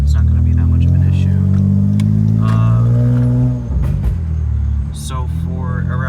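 A Honda Accord V6's exhaust drones steadily at a low pitch while cruising, fairly loud and continuous, with a brief dip midway before the hum resumes.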